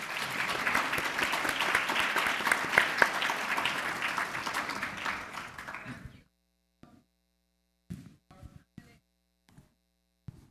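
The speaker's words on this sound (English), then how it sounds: "If everyone give them a round of applause." Audience applause for conference panelists, dense clapping that runs steadily for about six seconds, then stops abruptly, leaving a few scattered faint knocks over a low hum.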